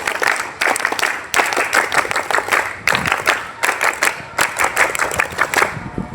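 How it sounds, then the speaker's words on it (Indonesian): A crowd at a scout camp opening ceremony performs the rhythmic pramuka clap twice, loud bursts of synchronized clapping in patterned groups with brief gaps between them. "Dua kali tepuk pramuka."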